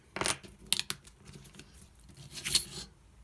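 A knitting needle scores a fold line into paper while an envelope is being made, giving faint scraping, rustling strokes in a few short bursts at close range, with no talking.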